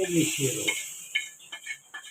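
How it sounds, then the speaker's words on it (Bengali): Fried onions are tipped into a pot of khichdi with green chillies and stirred, giving soft scraping and light sizzling after a brief stretch of voice at the start. "এবারে পেঁয়াজ ভাজাটা দিয়ে দেবে এর মধ্যে"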